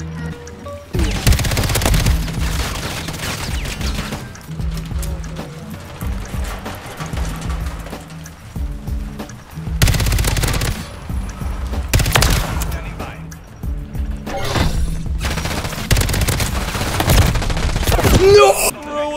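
Rapid bursts of automatic gunfire from a Call of Duty match with an FJX Horus weapon, loud repeated volleys separated by short pauses, along with game sounds.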